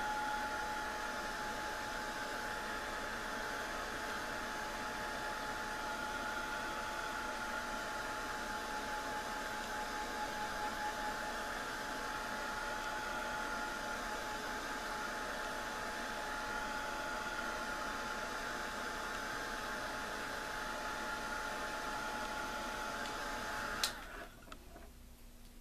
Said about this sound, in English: my heat gun is fairly gentle, so if yours is stronger, you just want to hold it away from your piece